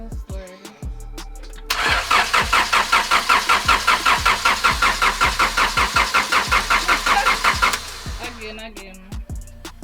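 A turbocharged Honda Civic under rebuild cranks in a rapid, even rhythm for several seconds and does not catch. Short clicks and knocks come before and after, heard up close.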